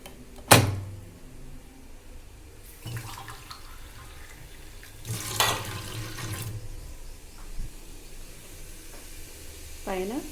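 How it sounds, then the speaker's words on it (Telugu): Water splashes in short pours into a pan of beetroot pieces on the stove. Three quick bursts of splashing and sizzling are spread over a quiet kitchen background. "దానిలో కొంచెం వాటర్ పోద్దాం."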